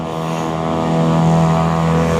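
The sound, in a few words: noisy motorbike passing by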